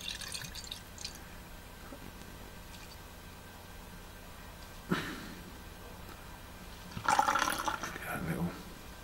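Homebrew beer is poured into a glass, quiet trickling and splashing with a brief clunk near the middle and a louder gushing pour toward the end, otherwise faint background hum.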